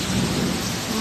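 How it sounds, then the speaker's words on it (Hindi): Heavy monsoon rain pours outside a house veranda, a dense, loud, steady roar with low thunder rumbling underneath throughout. "अल्हम्दुलिल्लाह अल्हम्दुलिल्लाह बारिश हो रही है।"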